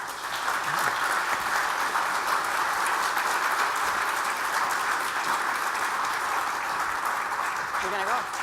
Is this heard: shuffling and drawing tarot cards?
no